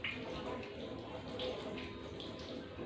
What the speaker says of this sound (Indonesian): menggunakan air mengalir sampai ke siku